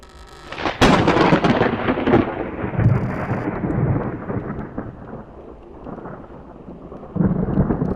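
Rolling thunder from a storm in the horror video game Nun Massacre, a loud crack near the start that rumbles and fades, with steady rain and a second swell of thunder near the end.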